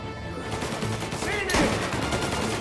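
Rapid gunfire crackles in a Mafia: Definitive Edition shootout, sustained bursts layered over dense game noise with a sharper volley midway, shouted voices mixed in.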